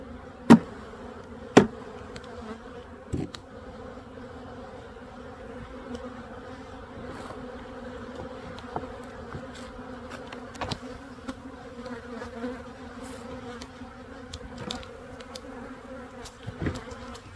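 Honey bees from a backyard apiary hum steadily around an open hive during an inspection, a low continuous drone with a few sharp knocks from frames and equipment and no talking.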